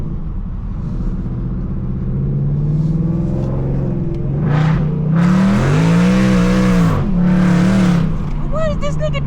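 A 2024 Ford Mustang GT V8 with Kooks headers runs loud and close, its deep rumble swelling into two strong rev surges, with people talking over it.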